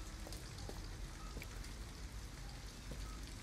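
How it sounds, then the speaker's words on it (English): Steady, dense rain pattering on surfaces around an abandoned house, a continuous close hiss with scattered individual drops, heard alone without voices. "At least we'd be out of the rain."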